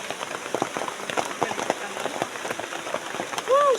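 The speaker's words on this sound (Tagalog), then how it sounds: "Siyang maulan nga umaga." Steady rain pattering on foliage and surfaces on a wet morning, a dense close patter with scattered louder drops throughout, a brief tonal chirp near the end.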